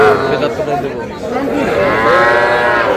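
Cattle at a busy livestock market moo loudly and at length, several drawn-out calls overlapping, with crowd chatter in the background.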